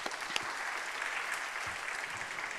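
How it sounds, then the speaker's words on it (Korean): A church congregation at a Friday worship service applauds students and teachers with sustained, even clapping that sounds full and somewhat distant across the room. "우리 모두 학생들 모두에게 격려의 박수를"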